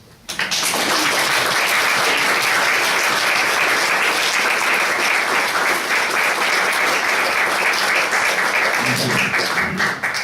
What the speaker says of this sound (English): Now let us show our love and determination to unite with our beloved true mother with a big applause.